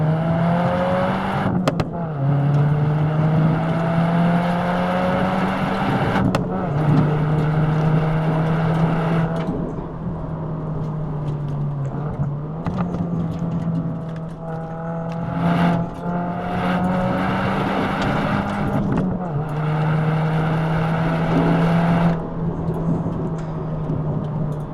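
A Subaru WRX driven hard on a gravel road, its engine revving loud and close in a steady rising and falling drone as gears shift, with tyre and gravel rumble underneath throughout.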